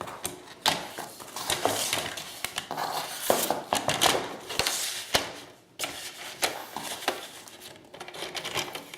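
Cardstock paper being cut up close, with crisp snipping and rustling paper-handling noises in an uneven, busy rhythm and no talking.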